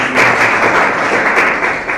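A class audience claps hands together at a Hindi study-motivation talk, a dense, steady patter of many hands filling the whole stretch at close range.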